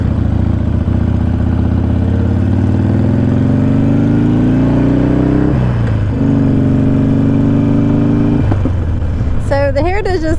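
A Harley-Davidson motorcycle engine on a test ride, loud and continuous, its revs climbing in steady sweeps with breaks where gears change, ending in a brief burst of higher, wavering sound.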